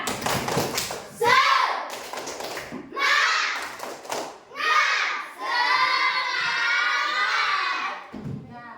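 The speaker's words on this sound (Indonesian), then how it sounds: "Tepuk semangat." A classroom of grade-six children performs the rhythmic "tepuk semangat" clapping routine, loud bursts of group clapping and chanting voices alternating in quick rounds, with children shouting along close by.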